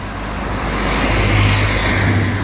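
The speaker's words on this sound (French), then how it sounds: "Ah, il y a encore beaucoup de voitures aujourd'hui." Cars passing on a road near Quimper, a steady broad traffic wash with a low engine rumble swelling in the middle as a vehicle goes by close, with no voices.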